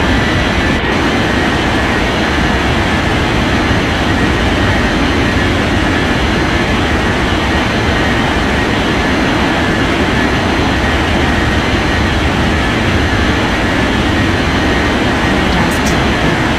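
A jet airliner taking off in an air traffic control video game, heard as a loud, continuous broadband roar that holds steady for the whole stretch with no talking.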